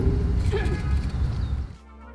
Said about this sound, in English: A metallic echo.